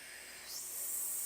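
A long, breathy hiss of air pushed out in a breathing technique exercise, steady at first and then swelling louder and brighter halfway through, with no talking.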